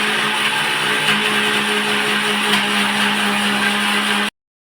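A mixer grinder grinds a masala of garlic, onion and cumin for a dried-fish pulimunchi. It makes a loud, steady, close whirring motor drone that runs for about four seconds and then cuts off abruptly.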